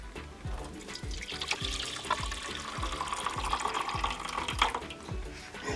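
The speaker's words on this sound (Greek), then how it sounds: "Θα διάσουμε τώρα από εδώ το ζωμό," Hot broth for cabbage-roll avgolemono poured and strained into a baking pan in a kitchen, a steady close liquid splash and trickle running throughout with faint rhythmic low thumps beneath.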